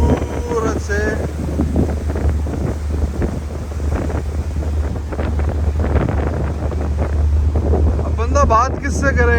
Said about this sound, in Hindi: ये पानी की आवाज़ सुन लो भाई